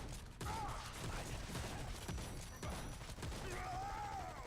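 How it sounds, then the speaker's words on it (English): Blade's shotgun fires in Marvel Heroes Omega, a handful of sharp, irregularly spaced blasts cutting through a dense wash of game effects and background noise. "Here's the shotgun."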